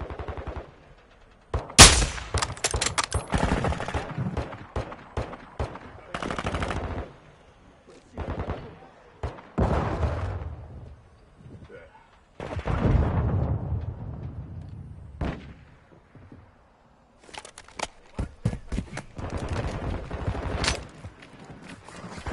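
Bursts of gunfire and rapid automatic fire in Call of Duty Modern Warfare 2 multiplayer, loud sharp volleys separated by brief pauses, with a shouted voice at times.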